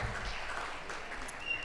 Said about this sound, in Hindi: उसी के साथ तालियों की गड़गड़ाहट से शुरू करते हैं।